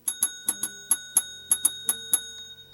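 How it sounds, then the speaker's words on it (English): A small bell rings about ten times in an uneven run of sharp, bright strikes during live fly tying at a bench, each one ringing on briefly, with a faint low hum underneath. "This is a special bell just for Bella."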